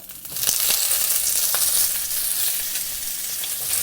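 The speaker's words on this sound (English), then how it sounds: "In the same oil, we will put in our ribs" Pork ribs, patted dry, sizzle loudly in hot oil as they brown, a steady dense hiss with occasional sharper spits, close up and without talk.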